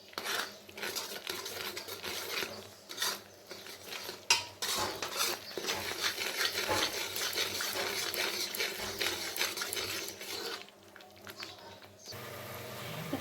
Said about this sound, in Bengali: আমি এখন এই সমস্ত মশলাগুলোকে খুব ভালো মতন ভেজে নেব।